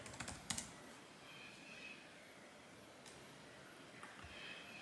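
Typing on a computer keyboard into a search bar, with quick bursts of key clicks separated by pauses, close and fairly quiet with no voice.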